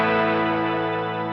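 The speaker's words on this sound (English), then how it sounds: "I have an octave reverb loaded in this particular instance" Guitar played through a Boss M5 pedal set to an octave reverb, a sustained shimmering chord with stacked harmonic layers and a wash of reverb tail, steady and close, no voices.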